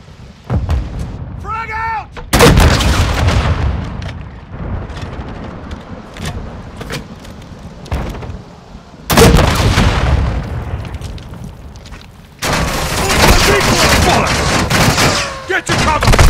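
A frag grenade bursts in heavy combat, deep booming blasts and gunfire crashing loudly in several waves, with shouted voices between them.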